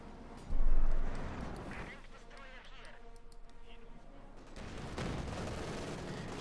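Machine-gun bursts from an LMG-34 in a Company of Heroes 2 match, a rapid crackling fusillade under battle noise with a louder thump near the start and a commentator talking over it.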